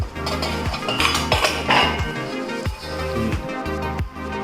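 Plates, bowls, aluminium vessels and tea glasses clink and clatter as they are lifted out of an LG 14-place dishwasher, with close, repeated ringing knocks of crockery and metal throughout.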